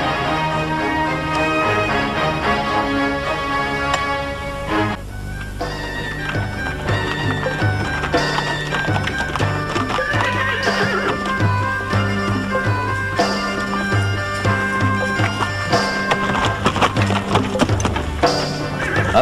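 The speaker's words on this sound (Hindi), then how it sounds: "बाबा सामने घोड़े हैं" Horses whinny and hooves clip-clop amid layered music, with loud repeated neighs and steady hoof beats that continue throughout.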